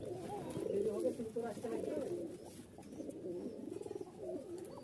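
Pakistani Teddy high-flying pigeons coo softly in a loft, low throaty rolling calls repeating close by while someone talks over them.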